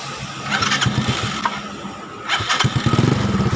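A Mio MXi scooter engine with a new starter motor fitted, its throttle body and air cleaner removed, cranks in two loud, close bursts of whirring and sputtering, with a short pause between them.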